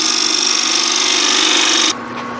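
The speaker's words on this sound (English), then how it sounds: "gonna make a couple of marking cuts here for the two limits" A wood lathe spins a wooden tenon for a twig vase while a tool makes marking cuts, a steady, close grinding hum that drops off near the end.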